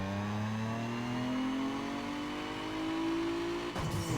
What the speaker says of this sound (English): Oh, listen to that blower valve.